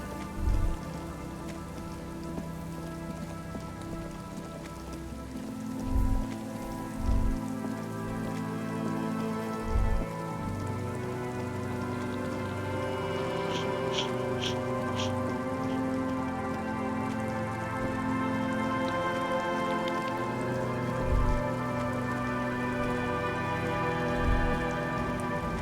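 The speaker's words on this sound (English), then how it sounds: "I just realized it's raining over here." Steady rain falls in the video game Disco Elysium, a continuous dense patter on surfaces with a few low thumps and faint chimes mixed in, no talking.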